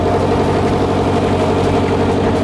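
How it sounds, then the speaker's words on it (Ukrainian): A powerful inboard engine of almost 80 horsepower in a small boat runs at a steady, loud, dense drone, heard close and alone with no talking. "Серце цього кораблика. Це отакий потужний двигун."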